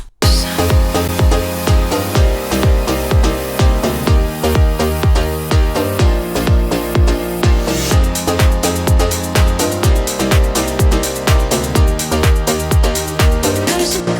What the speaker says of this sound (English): listen to the drop section of this track